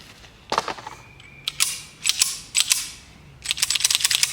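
Slide of a Ruger Security .380 pistol being racked repeatedly, giving a series of sharp metallic clacks and snaps in quick pairs, close and clear, with no talking.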